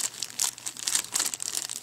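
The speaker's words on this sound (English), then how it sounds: "Now let's go ahead and unbox it." Packaging for a Cyber Acoustics CA-461 iPod speaker dock crinkling during unboxing, a quick close burst of rustling plastic and paper crackles.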